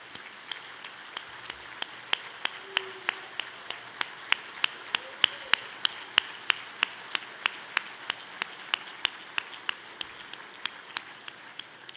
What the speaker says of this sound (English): a warm, heartfelt applause for the U.S. Army's Golden Knights who are here in attendance today